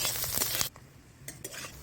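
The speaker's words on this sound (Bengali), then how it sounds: "এবারে তেলের মধ্যে দিয়ে ভেজে নেব তো দিয়ে ক্যাপসিকাম আর পেঁয়াজ ভাজা দিইটি" Capsicum and onion fry in oil, with a short loud burst of sizzling and stirring that drops away quickly, followed by a few quieter scrapes of a utensil in the pan.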